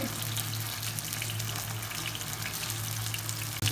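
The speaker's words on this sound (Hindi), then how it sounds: "जी, तो 2 से 3 मिनट हो गए फ्राई होते हुए।" Beef keema kababs fry in a pan with a dense, constant sizzle and crackle close by, holding steady until a brief dip near the end, with nobody speaking.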